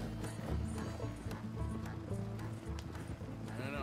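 Horses gallop in Red Dead Redemption 2, hooves clip-clopping in a steady rhythm beneath game music and scattered voices, fairly loud and continuous.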